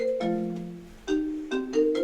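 A mobile phone ringtone goes off during a talk about events, a short melodic tone pattern that repeats several times, clear and fairly loud with no one speaking over it.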